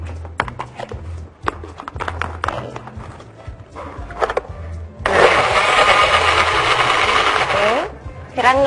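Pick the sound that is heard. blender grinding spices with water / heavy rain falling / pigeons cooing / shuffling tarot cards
blender grinding spices with water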